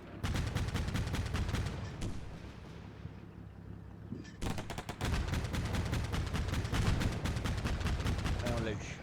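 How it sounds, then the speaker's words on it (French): Rapid gunfire and heavy battle bursts from the video game Combat Mission Black Sea, loud and dense for most of the stretch with a brief lull midway, while a voice talks faintly underneath. "On entend les tirs"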